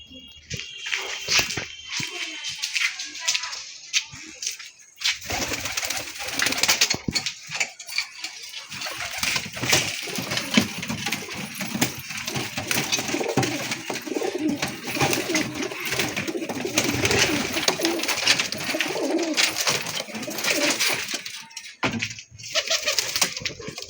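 Madras pigeons coo repeatedly amid scattered rustling and handling noises, with occasional bursts of louder activity, all fairly close.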